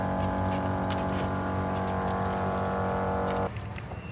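Water sprays steadily from a camper shower on a Toyota Landcruiser 78 Series, a loud close hiss with a humming pump underneath, cutting off just before the end to leave a softer trickle.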